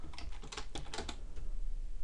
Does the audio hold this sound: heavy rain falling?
no